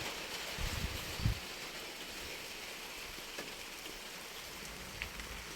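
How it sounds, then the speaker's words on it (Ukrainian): Steady rain falls in a garden, a dense, even patter on the surfaces around the listener. It runs throughout with a few louder drops and no speech. "поки обідала, то пішов дощик. Але хай йде."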